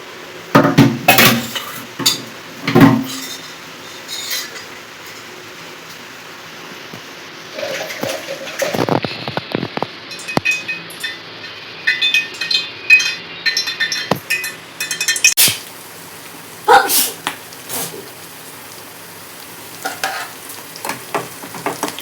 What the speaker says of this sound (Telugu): తాలింపు వేసేసుకున్నాము.